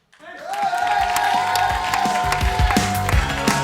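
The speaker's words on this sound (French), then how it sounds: "Sous vos applaudissements nourris, il nous vient de Nantes" A tournament crowd breaks into sustained applause and cheering that sets in abruptly and holds steady, with music underneath.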